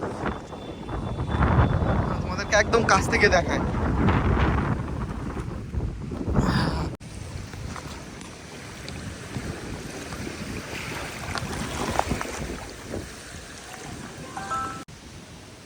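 Storm wind whipping up waves on a village lake near Bangaon during heavy rain, with steady gusty rushing and lapping water plus wind buffeting the microphone; someone talks briefly over it.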